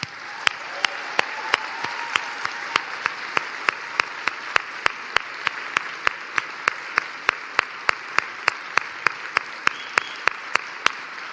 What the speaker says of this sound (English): let us applaud them for their courage